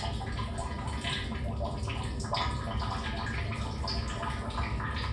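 Water gushes steadily into a RODI reservoir tank through a sensor-controlled automatic valve, a continuous broadband rushing and splashing with no letup, moderately loud and close, with no talking.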